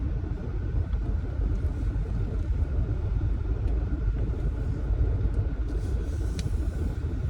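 A car rolls into a car wash, its engine and cabin rumble a steady, close low drone with faint clicks and hiss in the background.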